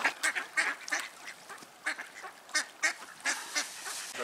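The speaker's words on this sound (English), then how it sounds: "We're just passing a pond where some ducks are being fed at this moment." Ducks at a pond being fed quack and squabble in a busy, excited chorus of overlapping calls, moderately close in an outdoor setting.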